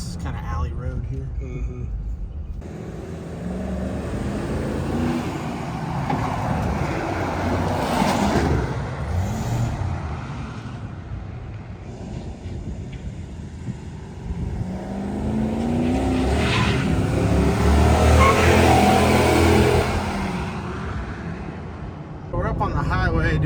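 A Ram 2500 pickup truck with Carbon Shocks and a Thuren Fabrication sway bar drives along an alley road, its engine and tyres making a steady rumble that swells at times, with someone talking over it.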